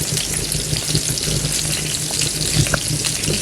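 Fish fillets frying in butter in a pan make a loud, close, continuous sizzle with small crackles and a few light pan knocks, and no voices.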